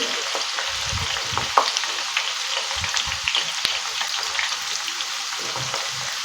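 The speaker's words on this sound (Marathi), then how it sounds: "कांदा भाजण्या तळण्यासाठी थोडासा टाइम लागतो आपल्याला" Sliced onion frying in hot oil over a full flame for veg biryani gives a steady, close, dense sizzle with a few small pops and faint stirring. No one speaks.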